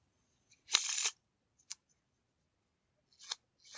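Bicycle Rhapsody playing cards being riffle shuffled: one loud burst of rapid fluttering card riffle, followed by two short, quieter snaps of cards settling, with no talk.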